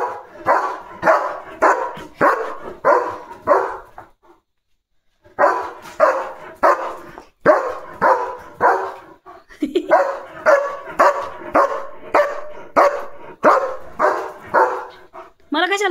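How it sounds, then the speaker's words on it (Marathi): A German Shepherd barks repeatedly close by, bursts of loud rhythmic barks separated by short pauses, with a few whimpers, a person talking at times between the barks. "भुंकून भुंकून लिओला लागलेली आहे तहान"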